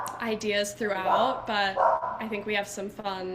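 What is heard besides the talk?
neighbor's dog barking in the background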